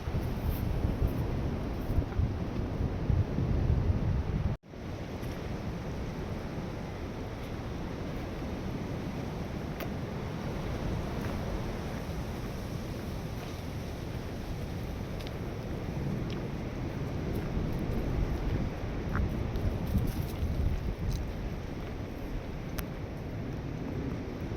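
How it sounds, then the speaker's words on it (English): Wind blows on a New Year's Eve countryside walk near Grenorside. A steady, low rumble of wind buffets the microphone throughout, loud and unbroken apart from one brief dip. "The wind is starting to calm down a little bit, thankfully."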